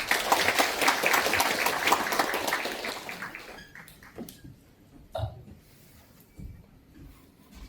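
Applause greets the committee chairman at a residents' briefing hall, dense clapping for about three seconds before thinning into scattered claps and quiet room noise.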